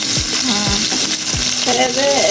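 Hilsa fish frying in a pan with a steady, loud sizzle throughout, with some clinks and scraping from stirring layered over the hiss.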